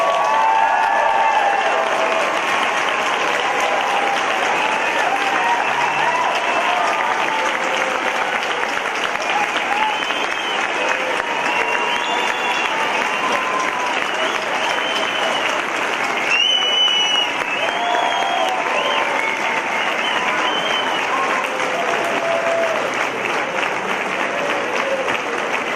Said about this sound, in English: can we please have a round of applause for our newest graduate?